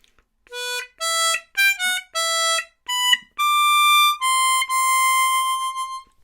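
Bright, reedy diatonic harmonica notes play a short Harry Potter melody, several quick separated tones followed by longer held notes, clear and close with no talking.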